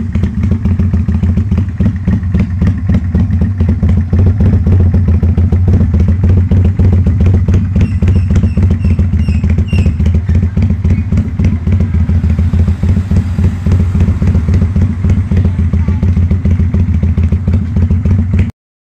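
A Kawasaki Vulcan 800 motorcycle idling close up with a deep, loping potato-potato beat, its steady rumble and mechanical clatter continuing unbroken.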